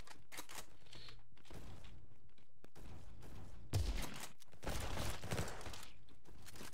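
Gunfire in the video game Bad Business, a scattered run of sharp bursts and clattering shots, some tight rapid clusters, fairly quiet overall with brief louder blasts in the middle.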